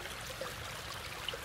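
Creek water flows in a steady, even wash, with faint trickling and splashing throughout.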